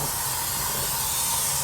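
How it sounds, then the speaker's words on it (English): Slide-out dry lube sprays steadily from an aerosol can onto an RV slide-out, a continuous close hiss without pause. "from the back and spray it down."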